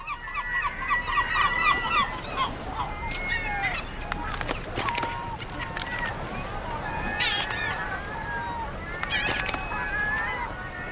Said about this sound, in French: Les mouettes investissent les bateaux de pêche à la recherche de nourriture.